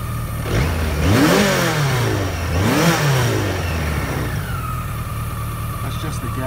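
A BMW K100 RS SE motorcycle engine is revved twice in quick succession, then settles into a steady, close idle.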